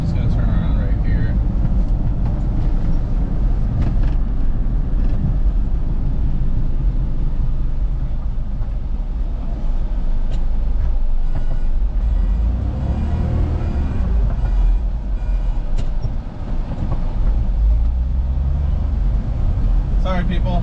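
A small 1997 Honda Acty drives and turns around with a loud, steady engine and road rumble heard from the cabin, while a voice talks over it throughout.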